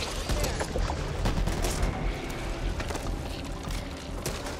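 Machine gun fire in the zombie shooter Back 4 Blood, a dense rapid stream of shots rattling continuously for several seconds, loud and close.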